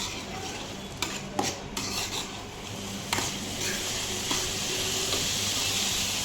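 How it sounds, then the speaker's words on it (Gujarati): Chopped cabbage, capsicum and onion filling for paneer lifafa is mixed in a bowl, giving steady close-up scraping and rustling with a few light clinks against the bowl. "આપણે કોબી નાખીશું. આ કેપ્સિકમ છે એ નાખીશું. બધું મિક્સ કરી લઈશું."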